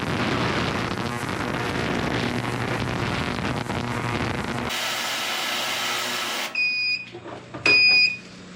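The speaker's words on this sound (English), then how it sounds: "Let's turn that bad boy on. Oh boy. Listen to that. That's pretty loud. That's an ultrasonic." An ultrasonic cleaner runs loudly while cleaning a Jeep throttle body, giving a steady dense hiss and hum that shifts partway through, then drops away to a few short electronic beeps at the end.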